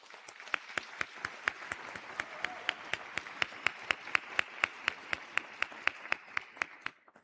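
Clapping at a physical therapy white coat ceremony, sounding as a single clear, steady rhythm of sharp claps close by, spaced a little over a quarter second apart over a soft wash of more distant applause.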